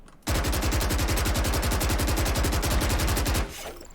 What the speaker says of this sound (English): I crouch and then I shoot this part of the wire.